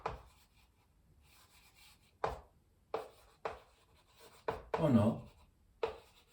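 Handwriting out a math proof, likely on a board, heard as several short, distinct scratching strokes spaced out over a few seconds, close and fairly clear, with brief speech at the start.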